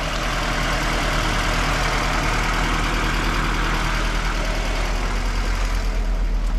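Fiat Abarth carburetor engine running after long storage, a steady low rumble with broadband roar that holds constant throughout, close and fairly loud, no voices.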